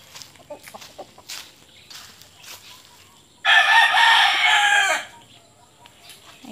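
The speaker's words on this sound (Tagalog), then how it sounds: "Ayan, yung manok na pula." A red rooster crows once, a loud, close call lasting over a second after quieter rustling and faint background sounds.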